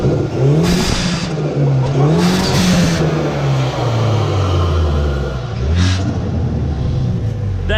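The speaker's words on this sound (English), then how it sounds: "It has the diverter valve and the Forge cold air intake, and now is going to show how loud it is." A Hyundai i30N fitted with a Forge cold air intake and diverter valve revs hard in repeated loud bursts, the engine note climbing and falling with rasping intake roar, heard up close with no talking.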